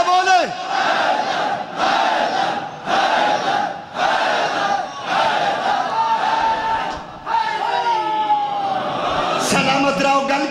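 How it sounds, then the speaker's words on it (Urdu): A large crowd at a qaseeda gathering in Pakki Shah Mardan, Mianwali, loudly chants "Haidar" in unison, with repeated rhythmic shouted bursts and brief dips between them, forceful and continuous throughout. "ہاتھ بلند کرو حیدر حیدر اونچا بولو"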